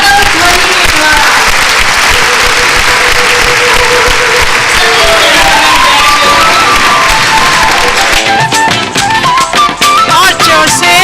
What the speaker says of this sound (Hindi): हम सभी अपनी खुशी व्यक्त करेंगे करतल ध्वनि के द्वारा